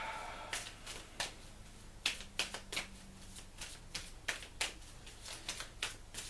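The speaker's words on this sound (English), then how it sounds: "little bit more of a shuffle." Tarot cards being shuffled up close, with a steady run of crisp snapping riffles and soft slides spread across the whole stretch, with no talk.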